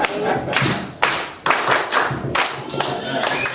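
Group clapping in the Nigerian school style, a steady pattern of loud, close hand claps in quick regular beats that run on without pause.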